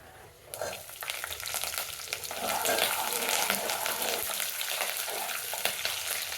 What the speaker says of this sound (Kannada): ನೋಡಿ ಫ್ರೈ ಆಗಿದ್ದೀಗ ಹಸಿಮೆಣಸಿನ್ಕಾಯಿ ಹಾಕ್ತಿದ್ದೀನಿ